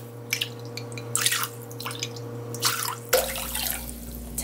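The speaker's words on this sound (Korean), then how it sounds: "여기다가 물을 4컵을 붓습니다" Water poured from a paper cup into a bowl of salt for radish water kimchi, a splashing trickle in several separate pours with a brief pause between them, close and fairly clear with no talking.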